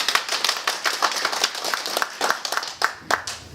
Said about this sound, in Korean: 뜨거운 박수로 맞이합니다